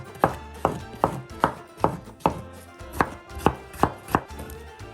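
Knife chopping vegetables roughly on a cutting board for a vegan Konkani dish, about a dozen crisp, evenly spaced thuds close by, with no voices.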